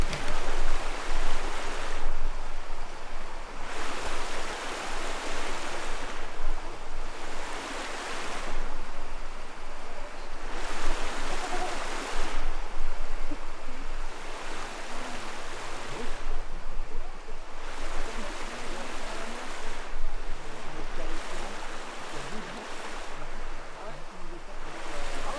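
River water rushing outdoors near a cabin, a loud, steady broadband flow that swells and dips in repeated surges, with no voices over it.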